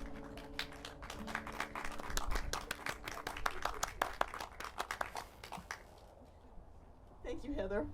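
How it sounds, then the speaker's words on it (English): Applause breaks out in a church congregation after a service, a dense run of many hands clapping at close range that thins out and fades near the end, with voices mixed in. "how about another round of applause for the people who spoke today"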